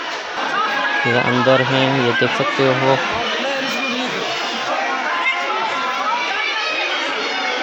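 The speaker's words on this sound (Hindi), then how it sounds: "भीड़ है।" Crowd chatter fills the Mahadev temple in Clifton, Karachi, a steady murmur of many overlapping voices throughout, with a nearby person talking over it and a brief clear tone rising early on.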